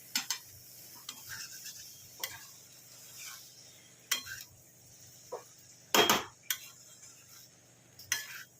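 Prawn curry being stirred and sautéed in a pot, a low steady sizzle under sharp metal spoon scrapes and clinks against the pot at irregular intervals, close and clear with no voices.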